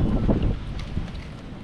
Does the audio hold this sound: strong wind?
yes